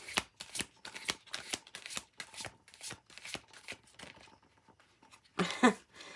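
Tarot cards being shuffled and drawn: a rapid series of crisp riffling flicks and slaps, close and fairly quiet, ending with a louder burst of shuffling.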